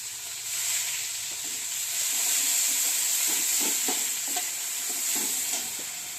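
Onion paste fries in hot oil with black cumin seeds for a pomfret curry, a steady bright hiss of sizzling with scattered stirring clicks, close and continuous, no voices.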